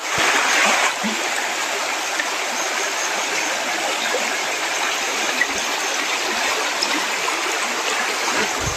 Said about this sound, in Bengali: শুধু পানির সাউন্ড নিরিবিলি।